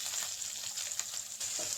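Onions and green chillies sauté in hot oil for a potato kurma, making a brief, continuous crackling sizzle close to the pan, with light stirring scrapes.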